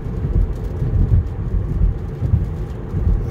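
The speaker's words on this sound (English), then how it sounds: "Just mild rain now." Mild rain falls on a Tesla car in bad weather, a steady low rumbling patter on the body and windshield heard from inside, loud and continuous with no voices.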